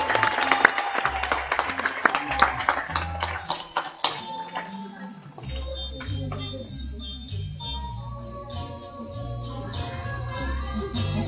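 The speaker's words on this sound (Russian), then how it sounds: "Не забывайте поддерживать аплодисментами." Audience applause at a dolphinarium show in Pitsunda: dense clapping rises in bursts over several seconds, mixed with music and crowd noise, steady and fairly loud throughout.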